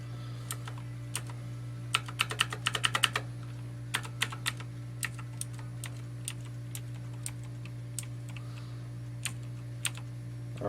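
Keys on a repaired mechanical keyboard are pressed one by one in testing, with sharp close clicks, a quick burst of rapid presses and then scattered single taps over a constant low electrical hum.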